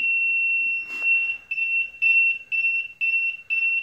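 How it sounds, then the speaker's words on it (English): A float switch alarm on a screen-printing washout booth filter sounds a high, steady electronic tone that soon breaks into a rapid series of loud, regular beeps, with a brief clatter early on. "you'll notice that alarm go off"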